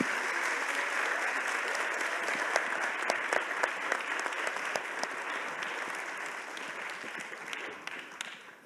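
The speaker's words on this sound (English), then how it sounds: "please give them another big round of applause to Lindsay Davis of ABC News." An audience at a conference plenary session claps in sustained, dense applause that holds steady for several seconds before gradually thinning out.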